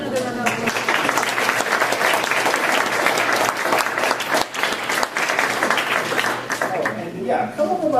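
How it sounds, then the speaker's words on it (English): Loud, close applause from an audience at a talk, continuous full-room clapping holding steady for several seconds before thinning out, with a voice starting to speak at the very end. "Let's give another round of applause."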